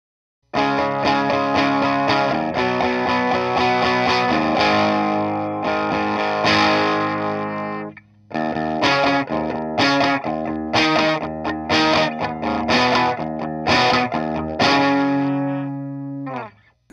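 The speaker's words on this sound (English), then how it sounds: "So that brings you a nice classic distortion sound." An electric guitar played through a Dr. T Labs Diamondback Terrapin distortion pedal on its D+ side, gain about halfway, rings out loud sustained distorted chords, then choppier strummed chords after a brief pause.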